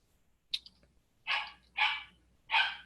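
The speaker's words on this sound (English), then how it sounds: "you guys can probably hear we have acquired a new puppy" Ten-week-old puppy indoors gives one short high yip, then three louder barks in a steady rhythm, each about half a second apart and close to the microphone.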